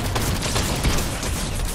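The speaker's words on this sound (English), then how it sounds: "They got that cannon." Cannon fire in a multiplayer shooter video game: a dense, continuous barrage of loud overlapping blasts and crackling impacts that fills the whole moment, with no voices over it.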